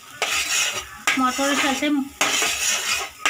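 A spatula scrapes and clatters around a pan as peas are stirred into a frying spice masala for Bengali-style matar paneer, in bursts of sizzling and metal-on-metal scraping, with a voice speaking briefly midway.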